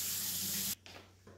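Seasoning poured onto grilled ribs gives a steady, close sandy hiss that runs for about three quarters of a second and then stops abruptly, with faint scattered ticks afterward.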